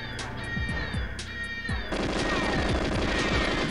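Rapid bursts of gunfire from the GoldenEye 007 video game, shots cracking repeatedly with a dense, continuous volley swelling louder midway through, loud and close with game effects layered over it.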